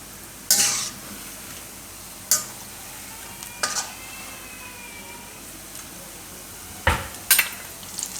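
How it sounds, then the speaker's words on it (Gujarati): Bottle gourd kofta deep-frying in hot oil, with a soft steady sizzle broken by several sharp scraping and stirring clatters of a spoon against the pan. "આ રીતના આપણે તળી લેવું"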